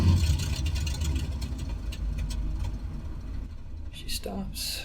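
In Microsoft Flight Simulator 2020, the number two engine of a Lockheed L-10A Electra runs down after an idle cutoff. A loud, low engine rumble winds down steadily under a man's speech.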